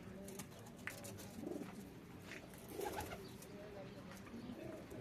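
Pigeons coo steadily in a large loft in Kuwait, with soft repeated low calls over constant background murmur and rustling. Several birds sound nearby.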